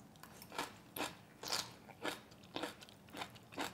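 Crunchy bites of well-fermented young radish kimchi, about eight crisp, evenly spaced chewing crunches up close with no talking.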